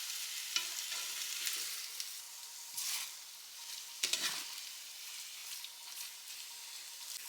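Ramen noodles and eggs frying in a pan, with a soft hiss and bursts of scraping as a utensil stirs them around, close and fairly quiet with no voices.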